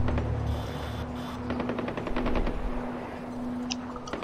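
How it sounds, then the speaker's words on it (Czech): Rapid distant automatic gunfire in Far Cry 4 rattles in quick repeated bursts under a steady hum of game ambience, fairly faint and continuous. "Slyším nějakou střelbu."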